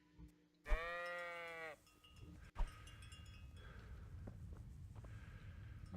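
Sheep bleat in the medieval video game Kingdom Come: Deliverance: one clear, close, wavering bleat followed by quieter ambient game sounds, with no talk.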